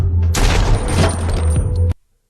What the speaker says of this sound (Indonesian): Kemudian Haris mendekat dan akan menembak Brain tepat di kepalanya